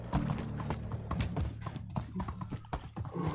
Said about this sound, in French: Ça va vite avec le cheval.